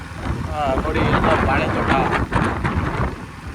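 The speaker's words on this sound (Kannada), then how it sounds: "ಗಾಳಿ ನೋಡಿ ಗೈಸ್." Strong wind buffets the microphone on an off-road route past banana plantations, a loud, gusting roar that rises and falls while someone talks over it.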